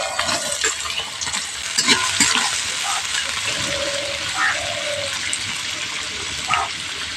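Cut carrots frying in hot oil with whole garam masala in a pan for fried rice, a steady sizzle with scraping stirring noises over it.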